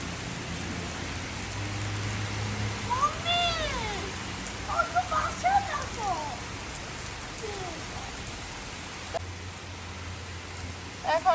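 Steady rain in Italy hisses throughout while a voice speaks and a few meow-like cries rise and fall over it.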